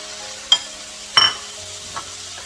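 Green peas, carrots and potato cook in a pan for Mexican chicken fried rice, a faint low sizzle broken by two or three brief stirring scrapes and clinks.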